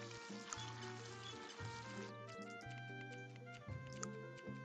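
Running water in the Tiny Thief video game, a soft steady trickle that flows under looping game music for about two seconds and then cuts off abruptly while the music plays on.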